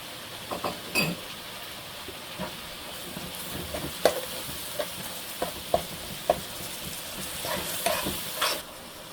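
Ginger garlic paste with ground coriander and cumin frying in oil in a pan for a vegetable curry, a continuous soft sizzle with repeated light scrapes and clicks of stirring, no talking.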